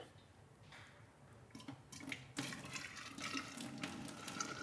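Boiling hot vinegar pours steadily into a jar, the splashing growing louder and fuller as it goes, close and fairly quiet.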